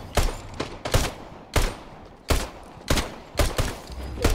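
Rifle fire in a shooting video game. About seven sharp, loud gunshot cracks come at irregular intervals about half a second apart, each with a brief decay, and no voice over them.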